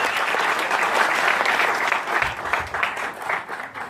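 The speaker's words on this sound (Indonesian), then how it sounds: "tepuk tangan yang meriah buat Bapak Leri Hidayat." An audience at an evening talk gives a lively, dense round of applause to welcome a speaker, sustained clapping throughout that thins slightly toward the end.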